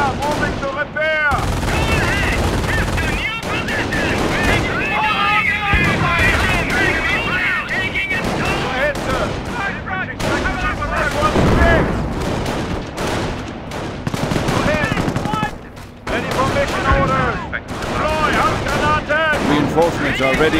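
Dense, continuous gunfire and machine-gun bursts rattle through a Company of Heroes 1v1 battle, Panzer Elite against British, with booming impacts and clipped unit voice callouts layered over the steady loud barrage.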